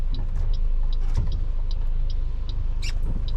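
A car cruises at steady speed on a ride out to pick up two late-1960s Pontiac overhead-cam six engines, giving a continuous close engine and road rumble with faint squeaks and rattles over it.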